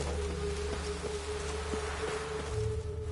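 Rain falls steadily in The Witcher 3 on PS5, a continuous dense patter with no speech, under a low sustained hum.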